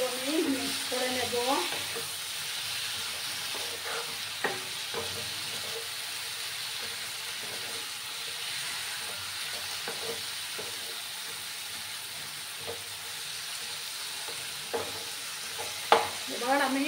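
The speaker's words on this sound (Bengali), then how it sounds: "এবার আমি বেগুনগুলো দিয়ে দেব, ভালো করে কিন্তু আমি মিক্স করে নেব।" Eggplant gets stirred and mixed in a hot frying pan for baigan bharta, a steady sizzle broken by repeated spatula scrapes and taps, with brief speech at the start.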